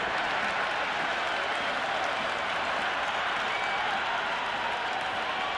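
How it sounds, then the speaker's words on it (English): Crowd at a cricket stadium during a T20 World Cup semi-final between India and England, cheering and applauding in a dense, continuous roar that stays loud and even throughout. "The crowd is electric right now."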